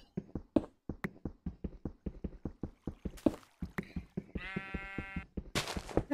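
Rhythmic clicking and tapping from breaking blocks in Minecraft continues throughout, joined later by a clear, wavering sheep bleat at moderate volume.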